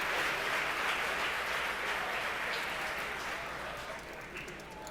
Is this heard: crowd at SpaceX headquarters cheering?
yes